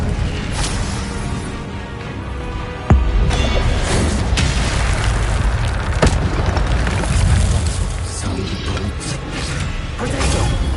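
A fiery Incendio spell blast bursts out in Hogwarts Legacy gameplay, with a sharp boom about three seconds in followed by a dense, loud roar of flames and clattering game effects.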